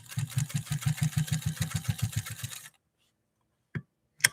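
A Pfaff 130-6 sewing machine stitches slowly in an even, rhythmic chugging run of about a dozen beats, then stops; a couple of isolated clicks follow in the quiet.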